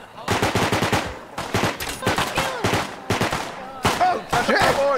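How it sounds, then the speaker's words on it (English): A Thompson submachine gun firing in a video game: loud, rapid bursts of automatic fire in several separate volleys, with shouting voices mixed in over the shooting. "Stu's got a Thompson"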